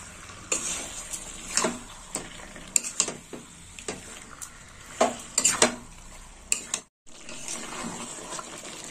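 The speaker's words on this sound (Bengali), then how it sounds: "এই দেখুন বন্ধুরা, চিকেনটাকে এইভাবে কষে নিতে হবে, বারে বারে কষে নিতে হবে, নেড়ে চেড়ে ভালো করে।" Chicken being stirred and turned repeatedly in spice masala in a pan, with rhythmic scraping and clinking of a utensil against the pan over a faint sizzle, briefly dropping out near the end.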